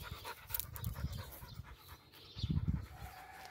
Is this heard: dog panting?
yes